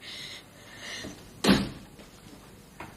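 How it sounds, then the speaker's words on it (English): A door in a hospital setting is shut once with a solid thud, set against a faint room background, with a lighter knock following shortly after. "Shut the door."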